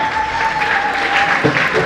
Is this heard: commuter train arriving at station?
no